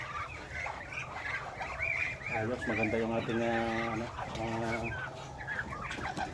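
A brooding mother hen on a rural farm in Mindanao clucking in repeated short bursts, close by, while someone talks over it.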